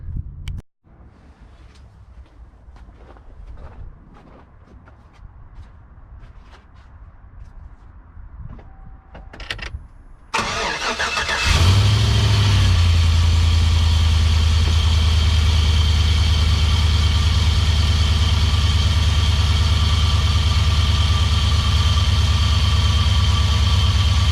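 A prerunner truck engine cranks and catches after a quieter stretch of small mechanical clicks, then settles into a loud, steady, rumbling idle that holds to the end.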